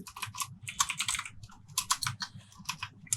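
A name is typed on a computer keyboard into a WordPress form, giving quick, close, irregular clusters of light key clicks with brief pauses between bursts.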